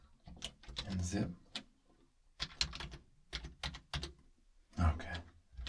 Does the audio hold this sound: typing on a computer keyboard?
yes